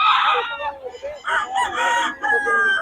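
A rooster crows loudly and close at a busy poultry market in Bocaue, its drawn-out call rising and falling, with other fowl clucking and faint voices around.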